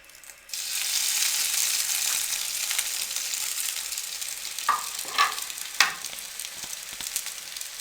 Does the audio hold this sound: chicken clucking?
no